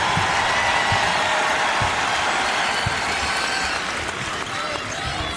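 A home crowd roars at a women's college basketball game during a scoring run, a loud, steady wall of cheering and noise filling the whole stretch.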